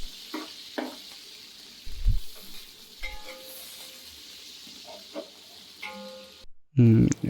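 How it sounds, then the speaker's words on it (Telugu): Onions and green chillies frying in a pan for a country chicken curry, giving a steady soft sizzle with occasional stirring scrapes and a louder clatter near the end, no talking. "ఉల్లిగడ్డలు పచ్చిమిర్చి మంచి గోల్డెన్ కలర్ వచ్చేంత వరకు బాగా వేయించుకోవాలి"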